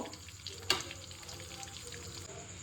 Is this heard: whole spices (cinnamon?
yes